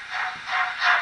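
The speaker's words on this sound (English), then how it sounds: "There you go, loud chuff." A Bachmann A1 model steam locomotive's sound decoder puts out three loud, evenly spaced hissing steam chuffs, close and alone.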